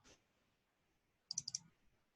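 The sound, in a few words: typing on a computer keyboard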